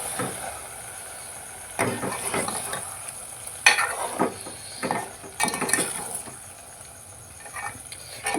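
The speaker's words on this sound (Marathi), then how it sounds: "आधी थोडीशी कोथिंबीर घालूया आणि हे व्यवस्थित सगळं हलवून घेऊया" Fish curry in a pan stirred with a spoon after salt and coriander go in, giving soft scraping strokes and light bubbling in short bursts, close and fairly quiet with pauses between stirs.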